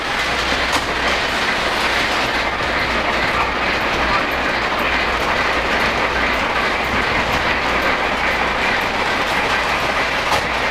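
Several Polar Express model trains and a trolley run at once on a toy layout, giving a steady rolling rattle with light clickety-clack from the track that continues evenly for the whole stretch.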